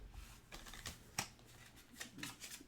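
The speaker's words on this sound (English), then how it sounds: "Did you actually riffle shuffle the stuff in your still?" Riffle shuffling a deck of cards while playing the board game Distilled: quiet, close bursts of fluttering card clicks in a few short rushes, with no talking.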